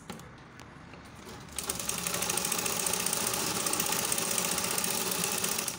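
A sewing machine stitches a marked dart in fabric for a baby girl's halter-neck peplum top, starting after a quiet moment and then running in a steady, fast, continuous whir close by.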